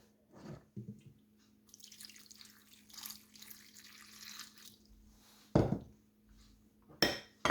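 Hot water is poured over dates and raisins in a bowl for a fruit-and-nut sweet: a soft, steady splashing runs for a few seconds amid scattered clinks of dishes and cutlery, with sharper knocks near the end.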